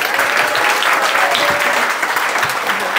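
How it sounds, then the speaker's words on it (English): An audience at a hackathon pitch event applauds loudly and steadily for a few seconds, a dense wash of clapping from a crowd of listeners. "Let's give a round of applause"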